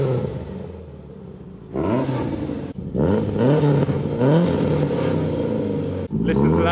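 A Ford Cortina Mk1 fitted with an ST170 engine and bike carbs, idling with a low whirring rumble before catching into loud, close revs that rise and fall in repeated throttle blips, with a brief dip between bursts.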